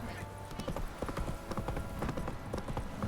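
Roach, Geralt's horse in The Witcher 3: Wild Hunt, clip-clops with steady rapid hoofbeats, close and fairly loud, under game music and a voice.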